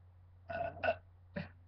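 Someone burps without any soda, three separate throaty belches at close range, the middle one loudest, with short pauses between them in an otherwise quiet room.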